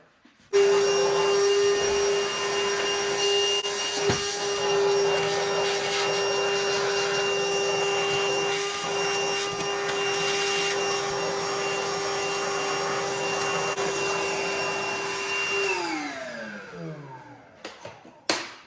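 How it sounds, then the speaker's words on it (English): A Milwaukee vacuum cleaner whines steadily at close range for about fifteen seconds, sucking debris from a Ford engine's spark plug hole, its pitch holding level before winding down and stopping near the end. "So we got our fancy Milwaukee vacuum here. We're gonna go ahead and get this bad boy fired up"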